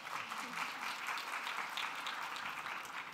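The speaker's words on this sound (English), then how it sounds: "I assume the applause was not from me" Applause from an audience at a plenary session on the financial well-being of U.S. households, a steady dense wash of many hands clapping at moderate level, somewhat distant, with faint voices underneath.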